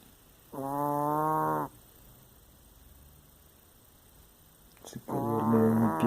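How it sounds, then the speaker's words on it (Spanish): A female dog snores in two loud, drawn-out rasping breaths, the first about a second long, then a quiet pause before a second, harsher snore begins near the end; no one speaks. "Así ronca mi perra."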